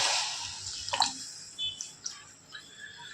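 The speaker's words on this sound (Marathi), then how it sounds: "आता याच्यात पाणी टाकायचं" Water is poured into a cooking pot of bhagar (varicha bhat) in a few short splashing bursts and gurgles near the microphone, followed by fading drips and trickles.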